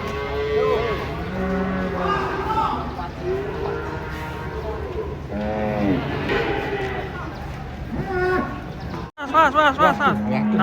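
Cattle at the Pasar Pon livestock market in Ambarawa moo again and again, loud and close, while people talk and crowd noise carries on underneath.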